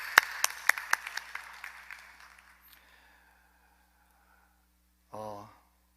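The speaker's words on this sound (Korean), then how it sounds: "하나님의 배 우리 박수로 미리 감사합시다" A church congregation gives a short round of applause, a few sharp distinct claps at the start fading into a thinning patter that dies out, followed after silence by a brief voice.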